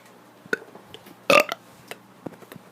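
A child burps several times: a few short, faint gulps, then one loud, drawn-out belch in the middle, followed by smaller scattered burps, with quiet room noise between them.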